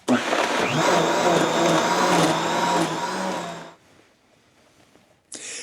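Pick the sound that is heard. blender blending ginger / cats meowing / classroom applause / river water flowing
blender blending ginger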